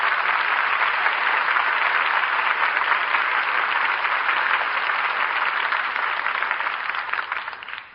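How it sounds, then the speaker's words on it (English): A radio theatre studio audience applauds a dramatic play, dense sustained clapping that holds steady for several seconds before starting to fade at the close. "we all join in applauding the artists who brought us this play tonight"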